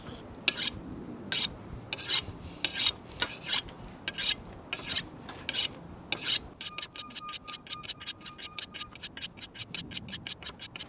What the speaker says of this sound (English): that's what the honing rod is doing